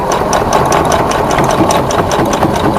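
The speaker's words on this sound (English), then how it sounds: "back tack and just sew right along the macrame cord" A sewing machine runs steadily, stitching along macrame cord while making a fabric face mask, its rapid needle chatter loud, close and continuous with no pauses or talk.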